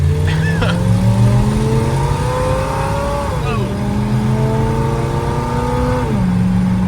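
A 1955 Chevy with a big cam revs hard and climbs through the gears on an eighth-mile drag run, the pitch rising and dropping at each shift, loud and close as it accelerates.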